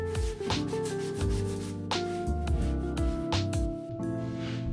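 A mudded drywall ceiling being sanded, with repeated rough rubbing strokes in an uneven rhythm, close and fairly loud, with no talking.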